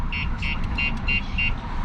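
A StarLine S96 alarm fitted to a 2018 Toyota GT86 gives five short, evenly spaced electronic chirps as it disarms, close and clear over a steady low rumble.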